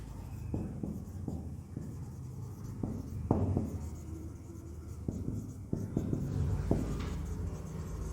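A pen writes on a board in a classroom lesson, with soft scratchy strokes and a few sharper taps spread unevenly over eight seconds against a steady background hum.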